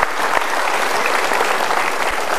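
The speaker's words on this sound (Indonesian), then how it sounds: "kita berikan tepuk tangan" Audience applause at a motivational seminar: dense, steady clapping from a large crowd, loud and continuous for the whole stretch with no talking over it.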